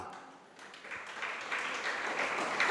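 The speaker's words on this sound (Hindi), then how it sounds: "ये ताली काय की बजा दी तुमने" An audience claps during a Hindi religious discourse in Itarsi, a broad, steady wash of applause that swells and grows louder toward the end.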